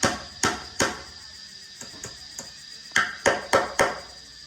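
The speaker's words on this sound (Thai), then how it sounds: "ไอ้ตะปูตอกอีก" Nails are hammered while a bathroom wall and door frame are built, giving sharp metallic strikes in two groups, three blows then a pause, then a faster run of four, close and clear.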